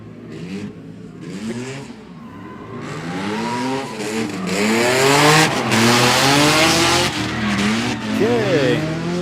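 Drift car engine screaming and revving hard at a drifting competition, with a loud rising and falling roar, rapid shifts and tire squeal, and an announcer talking over it.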